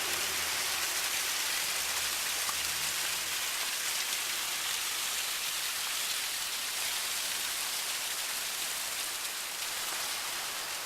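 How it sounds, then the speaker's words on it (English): Water spills steadily over a landscaped boulder waterfall among planted trees, a constant broadband hiss and splash that stays even throughout, with a faint low hum early on. "And here we have the waterfall."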